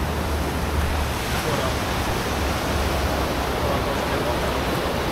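Waves roar continuously onto a sandy beach, a loud, steady broadband wash of surf with wind rumble and no pauses.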